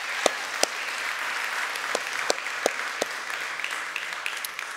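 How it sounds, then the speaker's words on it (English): Audience applause at a church service fills the room steadily, a dense wash of clapping with sharper individual claps popping out near the front, heard alone without talk. "Can we give him applause?"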